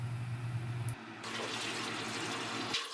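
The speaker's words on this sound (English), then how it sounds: "I pour off the tap water out of that metal container" Tap water is poured off metal granules out of a metal container, a steady close splashing pour with a brief pause partway through and no talk.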